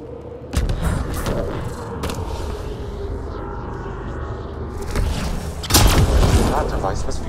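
In Mass Effect Andromeda, a device is shot and blows apart in a heavy explosion with deep booms and rumbling thuds, plus a second blast near the end, under game dialogue.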